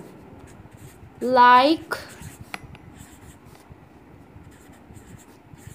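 A spray pen writes on a surface with a soft, continuous scratchy hiss, heard beneath a man's speech and one loud, brief tonal burst.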